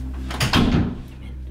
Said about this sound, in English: Make sure to close that door.